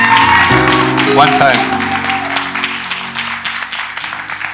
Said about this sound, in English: if you're clapping, you do it right